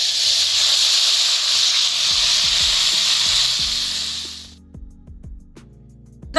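Water poured into a hot spiced fish curry base with potatoes for a rupchanda kalia, raising a loud, steady hissing sizzle that cuts off abruptly, followed by quieter low clatters and bubbling.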